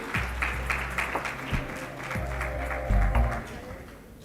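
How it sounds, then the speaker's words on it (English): An audience at a women's conference in Bahrain claps for a prize winner, a moderate indoor round of applause with a few sharper beats and some background voices. "Let's keep clapping for the lady."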